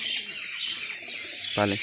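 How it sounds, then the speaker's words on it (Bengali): Birds chirp and tweet in the early morning around a rooftop racing-pigeon loft in a Bangladeshi village, a steady busy chorus of small calls, with a brief voice heard near the end. "একদম পাখির কিচিরমিচির আওয়াজ চারিদিকে,"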